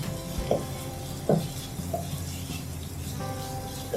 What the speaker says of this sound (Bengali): এখন এটা খুব ভালোভাবে ভেজে নিতে হবে আর খুব ভালোভাবে নাড়াচাড়া করে মিশিয়ে দিতে হবে এর মধ্যে দিয়ে দেব আদা রসুনের পেস্ট